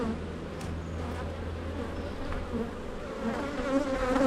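A honey bee colony buzzes during a hive inspection, a close, continuous hum of many bees that grows slightly louder toward the end.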